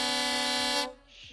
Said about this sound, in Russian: Значит, так, гудок.